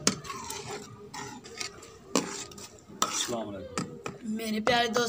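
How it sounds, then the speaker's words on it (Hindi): Aloo matar being stirred in a pot in a village-style kitchen: a spoon scrapes and knocks against the metal in irregular clatters, with soft wet sizzling underneath, close and fairly loud, no talking. "अब हम इसको हलाएंगे।"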